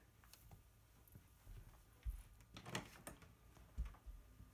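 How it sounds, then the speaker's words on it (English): Someone knocks on a house door, giving a few dull, muffled thuds in small clusters against a quiet, faintly noisy room. "I think someone's knocking on the door."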